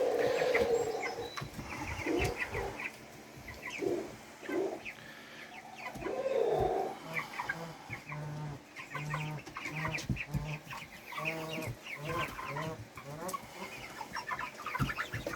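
Roosters and ducks on a farm cluck, squawk and call nearby in a lively, irregular chorus, with occasional louder calls rising above the flock.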